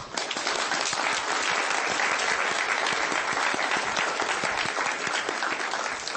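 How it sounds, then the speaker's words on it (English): An audience at a policy talk claps for the panelists, a dense, sustained round of applause that stays fairly even in loudness for several seconds before tapering slightly at the end. "Please join me to give a big applause to all of our panelists."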